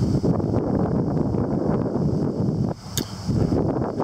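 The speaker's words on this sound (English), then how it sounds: "It's windy" Strong wind buffeting the microphone outdoors during metal detecting, a continuous rough rumble with gusty surges and a brief lull near the end.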